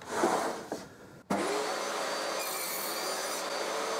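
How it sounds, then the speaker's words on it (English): A table saw blade runs through oak workpieces, cutting mortises in the ends: brief rubbing and cutting noises, a short silence, then a steady loud broadband whine of the saw holding through to the end, close and alone. "made the cuts to form the mortises on both ends of four of the eight work pieces"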